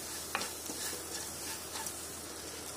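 Sliced onions sautéing briefly in a pan, a continuous close sizzle with a few faint stirring clicks, no voices.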